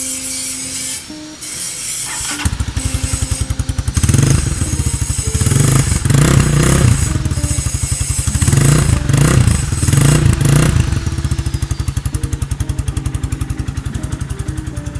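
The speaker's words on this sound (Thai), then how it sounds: "ไม่ลั่นมากนะครับผม เครื่องยนต์ดีนะครับเงียบๆ พร้อมใช้งานนะครับ" A 2019 GPX Legend 200 motorcycle with a modified exhaust idles close by, first a brief quieter patch, then a loud, rapid, even thump with several blips of revving in the middle before settling back to idle.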